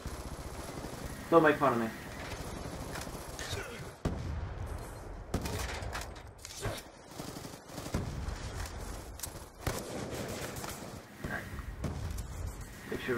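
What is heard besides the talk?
gunfire in a robot combat video game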